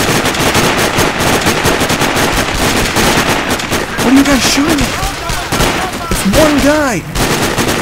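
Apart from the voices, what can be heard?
gunfire in the video game Sniper Ghost Warrior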